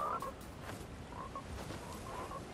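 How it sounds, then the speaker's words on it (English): Frogs croak in the video game Fortnite: a few soft, scattered throaty croaks at moderate distance, repeated irregularly over a faint, steady outdoor ambience with no talk. "I think it's just frogs"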